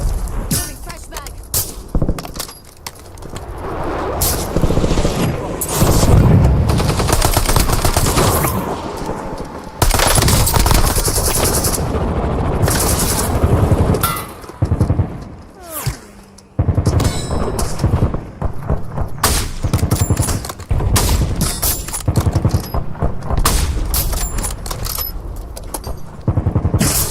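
Gunfire crackles through a loud Warzone match, with dense bursts of shots, metallic clangs and engine rumble overlapping in a busy, continuous combat din with brief lulls.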